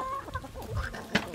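Chickens cluck in short, close bursts with a few sharper squawks, fairly quiet and with no talk over them, in a backyard coop where quail are also kept.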